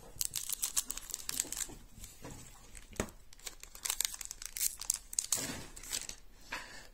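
A cat jumps about on a crinkly bag, making rapid, irregular bursts of crackling and rustling plastic that are loud and close throughout with no talking.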